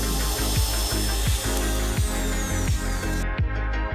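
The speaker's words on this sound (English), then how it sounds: "take the router and make one smooth, clear cut through the bottom of the instrument using the jig" Router cutting a tail strip channel through the bottom of a wooden instrument body guided by a jig, a steady loud high-pitched whine with a rhythmic rising pulse roughly every half second, stopping abruptly near the end.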